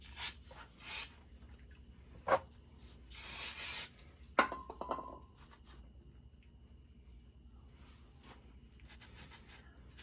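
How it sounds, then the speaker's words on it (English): Short hissing bursts of brake cleaner sprayed onto KTM 300 XC-W brake pads, a few close, loud spurts separated by quiet pauses and faint handling noises. "Take a little bit of brake cleaner here. Since I have the pads apart, we're going to just spray the surface of the pads."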